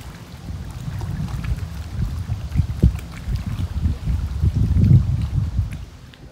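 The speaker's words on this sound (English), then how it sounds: "enjoy a little bit of the sound of the water smashing against the rocks here" Water sloshes and splashes irregularly against rocks on the beach at Smith Mountain Lake, a low churning wash mixed with wind buffeting the microphone.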